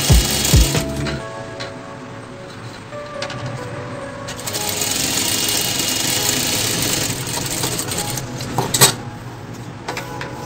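A sewing machine stitches a sleeve hem in pink thread, its motor whirring in a steady close run with small clicks and handling noises at the start and end.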